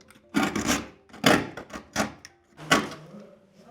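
A knife blade scrapes along the edge of old plaster on a wall being repaired, bevelling it in four or five short, rough rasping strokes, close and fairly loud with brief pauses between.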